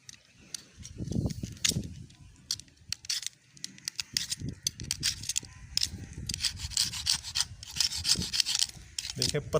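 A blade shaves a thin strip of local bamboo for kite making, producing quiet, repeated scraping and rasping strokes in an irregular rhythm, close and alone without speech.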